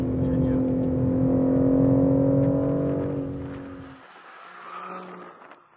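A BMW M3 Competition drifts on a race track, its engine holding a loud, steady high-revving drone with tyre noise before the note drops away and fades as the car moves off.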